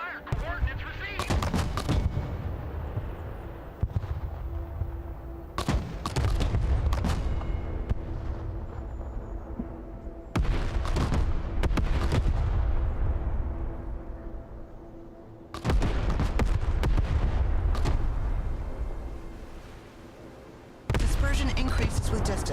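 Artillery fire mission in the video game Broken Arrow: four loud, booming salvos of impacts arrive at intervals of several seconds, each decaying into a lingering rumble, with faint voice-like chatter in between.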